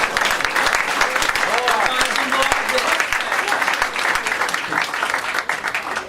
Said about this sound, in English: Let's clap and say we're going to do more.